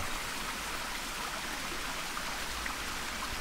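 Steady rain falls on a valley bivouac campsite with a tent, a dense, even hiss of drops that holds at the same level throughout with no voices.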